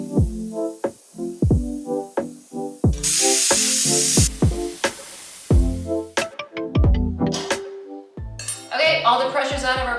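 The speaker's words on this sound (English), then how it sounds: "I'm gonna lift up my pressure regulator with a knife and let all that steam out." Metallic clinks and taps, then a loud rushing hiss of steam escaping from a 1.5-litre Hawkins pressure cooker as its regulator is lifted with a knife for about two seconds, followed by more ringing clinks.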